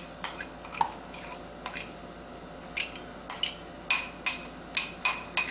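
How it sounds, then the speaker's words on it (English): A spoon stirs melted garlic butter with parsley and minced garlic in a small bowl, giving a run of light, close clinks and taps against the dish in an uneven rhythm, alone without talk. "And mix this well."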